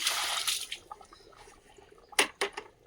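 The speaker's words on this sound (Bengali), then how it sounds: "গাছে ফুলের চারাগুলো একটু জল দিয়ে দিই" Water poured onto flower seedlings in winter: faint splashes and trickles come in short, uneven bursts with quiet gaps between them.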